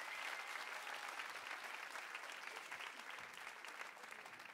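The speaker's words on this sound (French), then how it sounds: "Encore un tonnerre d'applaudissements pour la prestation d'Alexis." Applause from an audience of several hundred at a school talent show evening, a dense, steady clapping that carries through the whole stretch without talk.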